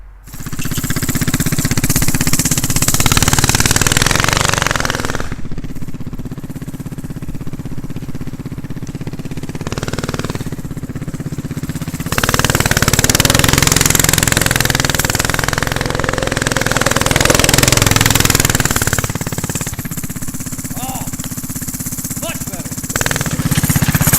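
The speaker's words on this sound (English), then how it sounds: "get the go-kart out there, and we're gonna do a test ride" A small go-kart engine runs steadily through a test ride, a loud continuous buzzing drone that rises and falls with throttle and speed, with rattling along the way.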